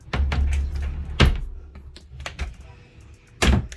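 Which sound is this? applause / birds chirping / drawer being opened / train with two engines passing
drawer being opened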